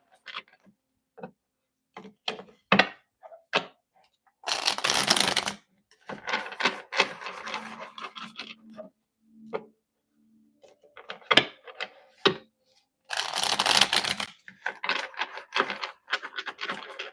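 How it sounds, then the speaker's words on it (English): A stiff deck of tarot cards being shuffled at close range, with irregular bursts of riffling and snapping, clicks, and short brisk flurries separated by quiet gaps, no talk. "why are these cards so hard to shuffle?"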